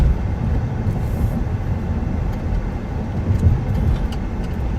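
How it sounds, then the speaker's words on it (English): A stopped train taking on added cars from an industrial area, heard as a steady, moderately loud low rumble and clatter of rail cars throughout, with no talk. "there's a train stopped, and they're adding cars to the train from the industrial area over here"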